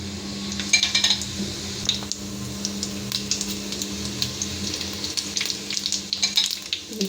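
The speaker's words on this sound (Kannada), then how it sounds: "ಈ ಥರ ಸಿಡಿತಾ ಇರಬೇಕು ಅದನ್ನು ಸ್ವಲ್ಪ." Cumin seeds splutter and sizzle in hot oil for tempering, a steady close frying hiss punctuated by sharp pops and occasional clinks of a utensil against the pan.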